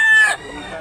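An eight-month-old rooster crows close and loud, though only the brief final stretch of the call is caught before it drops off sharply.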